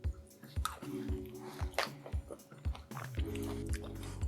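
Close, wet chewing of a crunchy mezze mouthful mixed with fresh herbs, rhythmic munches repeating about twice a second, with a faint background hum.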